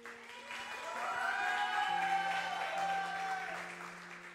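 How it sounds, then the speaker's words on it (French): A church youth service congregation applauds the young people in a sustained round of clapping that swells and fades over a few seconds, with sustained musical tones underneath. "vous pouvez vous applaudir"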